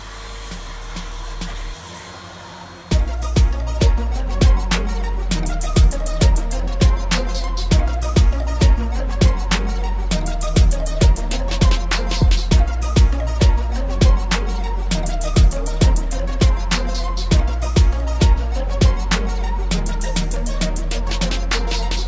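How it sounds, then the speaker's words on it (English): A Henry Allergy vacuum cleaner goes over a velvet bed frame, switching on after a quiet start to a steady, loud motor drone broken by regular rhythmic knocks and clicks as the nozzle moves along the frame. "But we're going to vacuum first."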